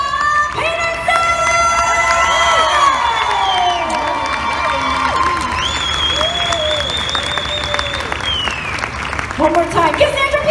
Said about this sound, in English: big round of applause for Cassandra Peterson!